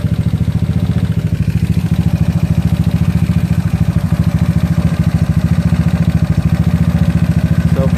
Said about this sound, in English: our engine's been running idling for about 20 minutes now